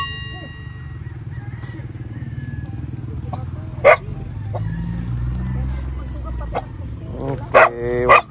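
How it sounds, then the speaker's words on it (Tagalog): An angry guard dog barks a few sharp, separated times at close range, with chickens clucking and people talking in the background. "Si Tatay Abelino, yung aso nyo nagagalit."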